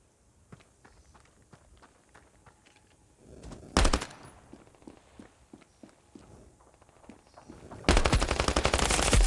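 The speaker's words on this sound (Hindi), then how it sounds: "ये देखो पूरा बंदूक ही खाली करो इस पे बिल्कुल।" Gunfire in the mobile shooter Standoff 2, with quick footsteps and scattered shots building to sustained automatic bursts, loud and close, with no talking.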